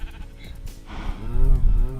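A sheep bleats in the video game Minecraft, one wavering, close bleat rising over low background sound, while a person talks softly.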